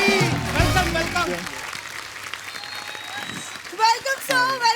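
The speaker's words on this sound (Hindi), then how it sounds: "जोरदार तालियां" Studio audience applause on a comedy talk show, loud clapping at the start that fades as music and a voice carry on over it, with a short burst of sound near the end.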